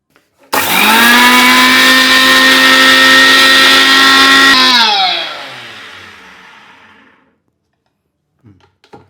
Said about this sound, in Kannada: ಇದನ್ನು ಹಾಕ್ಕೊಂಡ್ಬಿಟ್ಟಿದ್ದನ್ನ ದೊರ್ಗಬರ್ಗ ಮಿಕ್ಸಿನಲ್ಲಿ ರುಬ್ಕೊಂಬರ್ಬೇಕು.